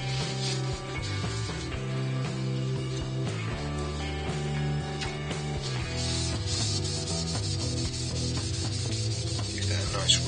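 Oil being rubbed by hand into a turned wooden dip pen with inlay, most likely spinning on a lathe, giving a steady close friction rub over a constant mechanical hum.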